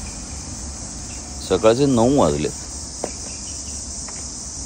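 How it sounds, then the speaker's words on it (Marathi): Crickets chirp in a morning room, a dense, continuous high trill that holds steady throughout, with a person briefly speaking close by and faint knocks in the background. "रातकिड्यांचे पक्ष्यांचे आवाज अजूनही किती मस्त वाटतात ऐकायला"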